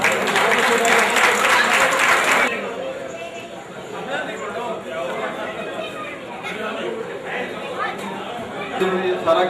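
Dense, loud crowd applause for children fills the first couple of seconds at a Pakistan Independence Day gathering at the Al-Noor camp in Jubail, Saudi Arabia, then gives way to lively audience chatter and talk.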